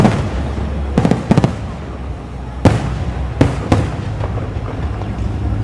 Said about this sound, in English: 4th of July is one of my favorite holidays to record fireworks on.